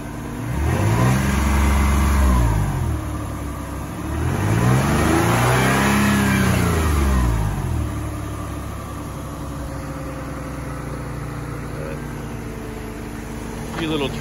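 A 1990 Nissan 300ZX Z32 on a dirt road revs twice, each rise and fall of the engine loud and close, then settles into a steady idle while someone talks.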